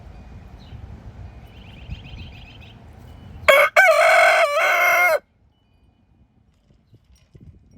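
Brahma hens and a rooster in a farm pen give a loud burst of crowing with clucks, rising abruptly over soft background clucking and rustle, then falling to near silence.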